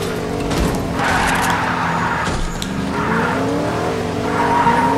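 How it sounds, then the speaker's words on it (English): Cars in Fortnite chapter 2 season 3 drive with a steady engine drone, tires squealing and skidding repeatedly across the whole stretch, loud and close. "See, I'm in a car."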